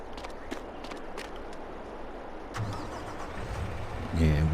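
A lorry engine in Farming Simulator 22 cranks over and then starts into a rising idle, with a steady background rumble, some footstep-like clicks and a person talking over it.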